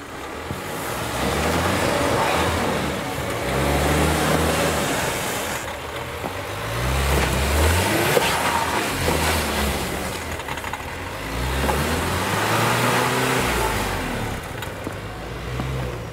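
A Volvo XC40 on all-season tires climbing a snowy, slippery hill, with its engine rising and falling in several long revving surges and wheel noise, moderately loud and with no voices.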